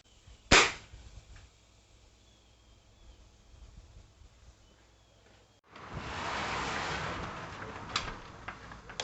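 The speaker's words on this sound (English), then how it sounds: "I'm going to shoot it with a pellet gun first" A pellet gun fires once at a plugged, aged spray paint can outdoors, a single sharp crack followed by quiet, then a sustained broadband hiss of escaping gas for several seconds.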